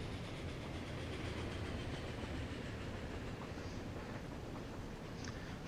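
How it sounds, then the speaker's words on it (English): A train pulls in within the video game Transport Fever 2, a steady faint rumble of rolling wagons with soft rhythmic clacking of wheels over rail joints, continuous and without voices. "here comes another train."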